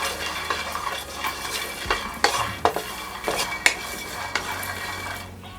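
Nuts and dry coconut pieces roast in a pan for an egg masala curry while a spatula stirs them, making repeated clinks and scrapes over a light sizzle, close and fairly loud.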